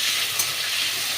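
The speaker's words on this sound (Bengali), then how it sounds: "আলুটা দিয়ে বন্ধুরা খুব ভালো করে আমি লাল লাল করে ভেজে নেব।" Potatoes fry in hot oil in a pan, giving a steady, close hiss of sizzling with a brief stirring scrape.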